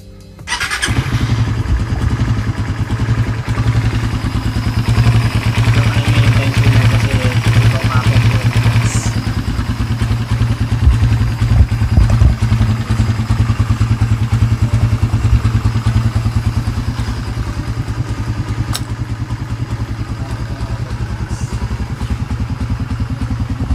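A Raider 150 FI motorcycle engine idles as it warms up after an oil change, a loud, close, steady hum with a faint squeal in the background, holding even throughout the long run.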